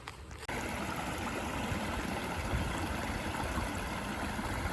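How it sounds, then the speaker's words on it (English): A creek runs through the woods, a steady broadband rush of flowing water that rises abruptly after a brief quieter start and continues evenly and close throughout. "you got a creek over here"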